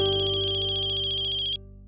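A mobile phone ringtone rings loudly and steadily in a pulsing electronic pattern, then cuts off abruptly, in a quiet indoor family scene.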